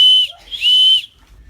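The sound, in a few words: steam whistle screeching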